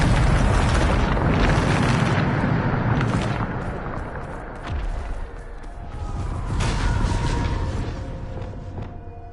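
Booming explosion from the Bombarda spell in Hogwarts Legacy, a loud, sustained blast with rumbling debris that swells again midway, dense and close with no voices.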